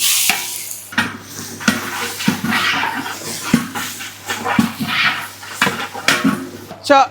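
Dried red chillies and curry leaves fry in oil as a spoon stirs them. Scraping strokes and sizzling come through close and loud, with a dog whimpering and a voice talking in the background.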